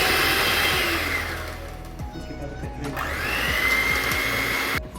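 An electric beater whirs steadily while beating a batter of mashed banana for banana oat bread, with a brief pause and clicks midway before the motor picks up again, fairly close and loud.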